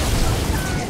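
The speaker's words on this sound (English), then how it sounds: "Grenade!" A grenade explosion in Halo 2, a single loud, close, dense boom that fills the whole moment with rumbling low-end energy.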